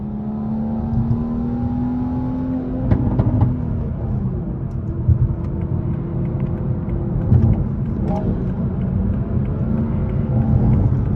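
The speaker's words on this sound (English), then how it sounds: "So my downshifts are my downshifts, you heard? Ain't no computer doing that." A manual Toyota Supra with added boost, heard from inside the car as it downshifts: a loud steady engine drone with pitch drops and quick blips between gears, plus rumbling road noise.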